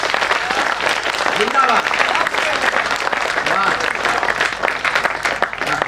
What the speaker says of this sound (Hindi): एक बार सम्यक तालियां होंगी।